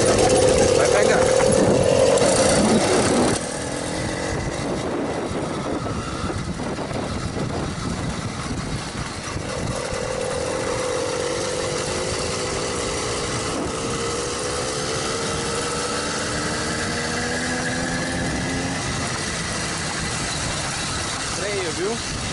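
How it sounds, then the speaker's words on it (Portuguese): A motorized bicycle engine starts and keeps running on a street, its buzzing note rising and falling as the throttle is worked, loud and close, with voices nearby. "Aperta a embreagem. Acelera. Vai pegando."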